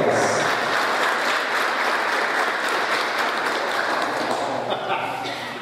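Crowd applause for agriculture secretary Elias Matos Almeida at a municipal handover of a road patrol vehicle, a steady, fairly loud round of clapping with voices mixed in underneath.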